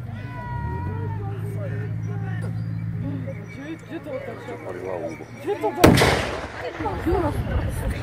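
An assault gun's cannon fires during a historical reenactment of the Slovak National Uprising at Zemianske Kostoľany; one loud, sharp blast cuts through a spoken voice and a low engine hum, followed by a rumbling echo.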